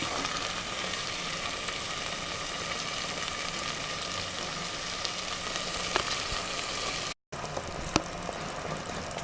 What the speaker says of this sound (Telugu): మరి కాసేపు మగ్గనివ్వాలి.